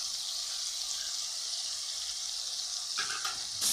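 Red chilli and curry masala fry in a pan with a steady bright sizzling hiss, joined near the end by a few scraping stir sounds.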